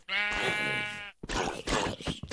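Sheep bleats from the Minecraft video game: a long, loud, wavering bleat lasting about a second, then a burst of rougher, overlapping bleating noise after a short gap.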